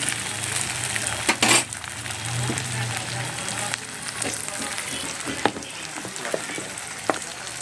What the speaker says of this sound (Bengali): 3টা টমেটোর কেটে নিয়েছি। আমি এখন তেলের মধ্যে ছেড়ে দেবো। তেলটা গরম হয়ে গেছে